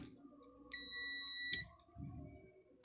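A single steady high-pitched electronic beep from a buzzer check on a set-top box being repaired, lasting under a second, loud and close, over faint background hum.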